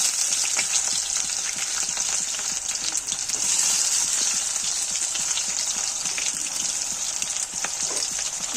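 Steady, loud sizzle of mutton frying in hot oil with bay leaf and chopped onion, a dense continuous hiss close up, with faint stirring ticks and no voices.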